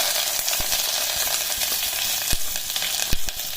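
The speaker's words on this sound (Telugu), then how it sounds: "ఆవాలు, చుట్టుపక్కలాడిన తర్వాత ఆనియన్, కరివేపాకు వేసుకోవాలి." Onion and curry leaves frying in oil with spluttered mustard seeds, a bright steady hiss broken by scattered sharp crackles and pops.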